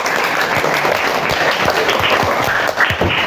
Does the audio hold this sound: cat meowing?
no